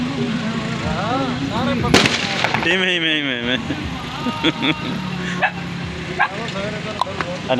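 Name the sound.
dogs barking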